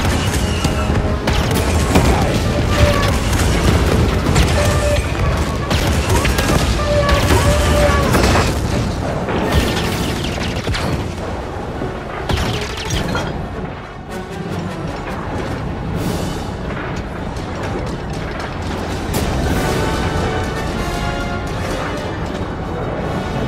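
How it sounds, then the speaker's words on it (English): Walker cannons in the Star Wars Jedi: Fallen Order video game pound out heavy, booming volleys with crashing impacts, loud and sustained, easing slightly midway and then building again. "So that fires the cannons."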